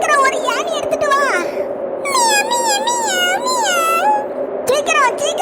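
A cartoon cat meows in long, wavering, pitch-bending cries, loud and close, with a voice speaking Tamil before and after.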